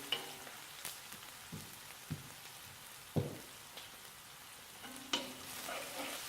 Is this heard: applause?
no